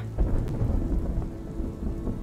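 Heavy rain pours steadily with low rumbles of thunder rolling underneath, a dense constant wash of downpour at close range with no voices.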